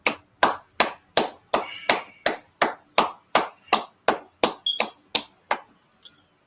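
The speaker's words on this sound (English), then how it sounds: "Let's clap it up." Sharp, evenly spaced claps, about fifteen in a steady rhythm, close and loud with a bright ringing tail after each, as a class applauds together at its end, fading out with a last faint clap.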